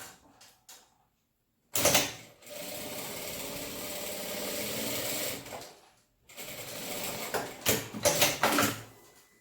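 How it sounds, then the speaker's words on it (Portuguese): A domestic sewing machine stitching fabric for a medicine bag with half the presser foot, running in two long steady bursts separated by a short pause, preceded by brief handling clicks. "aqui nós vamos pregar só com meio pezinho de máquina"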